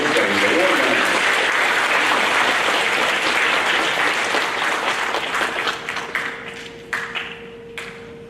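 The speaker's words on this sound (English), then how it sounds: "How about a round of applause for our social studies award winners?" School audience at a sixth-grade awards program applauding social studies award winners, loud sustained clapping from a crowd that tapers off into scattered claps.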